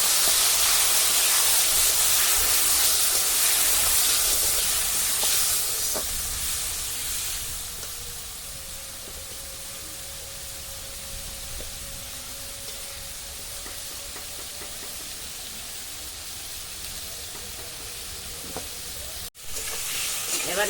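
Water hits a hot pan of frying cabbage fritters, a loud, bright sizzle that fades to a gentle steady bubbling and frying, with a short clatter near the end.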